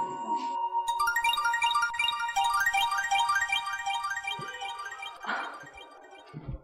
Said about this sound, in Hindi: ये तुम्हारा फ़ोन कब से बोल रहा है यार, देखो